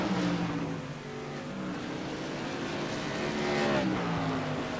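A modified race car dives into turn three at South Boston Speedway on a CRA Modified Madness Tour night, its engine note a loud, steady drone with harmonic bands that dip and swell as it works through the corner.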